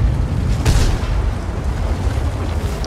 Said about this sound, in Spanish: primer tiro.